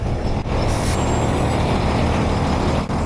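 A truck parks with a steady low engine rumble, and a short air-brake hiss bursts out near the start, fairly loud and close, with no one speaking.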